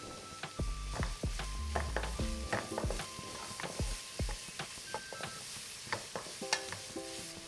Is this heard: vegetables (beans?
yes